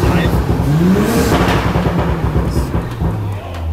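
A B9 Audi S5 engine with a 034 Motorsport Stage 2 tune idles and revs loudly while sharp exhaust crackles and pops burst through, with voices talking over the rumble.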